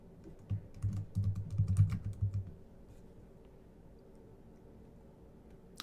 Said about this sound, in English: I'm going to type in survival again.